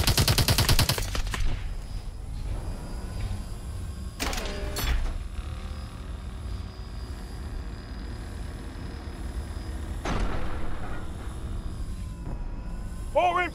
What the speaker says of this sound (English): Taking fire from the right!